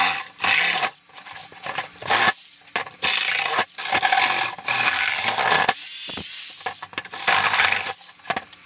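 A jigsaw cuts the top storage section off a plastic crate in bursts of loud rasping buzz broken by brief pauses and rattling clatter as the blade stops and restarts, with no talk.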